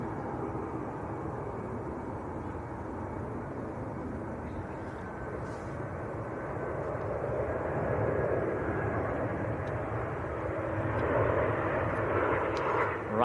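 A Pegasus airliner departs Manchester Airport with a distant, broad jet roar that slowly swells in loudness across the clip, heard from outside with no talking.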